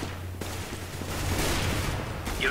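Gunfire in the Counter-Strike shooter game, a burst of rapid shots crackling over a noisy background, moderately loud and lasting the full short moment.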